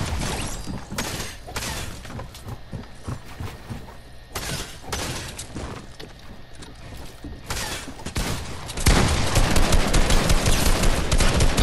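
Gunfire in a competitive shooter game with a pump shotgun, loud sharp blasts and bursts of rapid fire in irregular clusters, with mechanical reload clatter between them.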